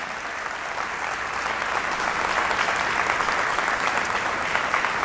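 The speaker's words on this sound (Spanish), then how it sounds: "¿Alguien me ayuda a darle un aplauso a Cristo por esta realidad?" Church congregation applauding during a sermon, a loud, continuous roar of many people clapping together that swells slightly as it goes on, with no talking over it.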